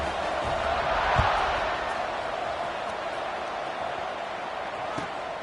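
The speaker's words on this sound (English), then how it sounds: "this crowd is buzzing after that last score" Football stadium crowd at a UGA game buzzing after a score, a broad, steady murmur of many voices from a distance with a few faint thumps.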